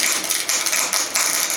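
A Triumph bash plate is tack welded in quick bursts, each a loud, close crackling buzz that stops briefly and starts again, about four tacks in rapid succession.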